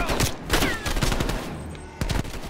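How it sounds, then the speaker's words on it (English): Rapid gunfire from a Call of Duty Black Ops Cold War match on PS5, loud and close, with dense bursts of shots and a fresh volley near the end. "let's shoot at that guy"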